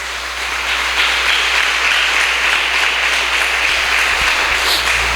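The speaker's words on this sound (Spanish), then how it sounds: "Dele un fuerte aplauso al Señor." A church congregation claps together in loud, sustained applause that swells within the first second and holds steady to the end, with no talking over it.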